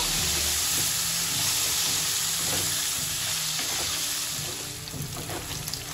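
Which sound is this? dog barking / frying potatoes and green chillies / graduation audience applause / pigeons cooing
frying potatoes and green chillies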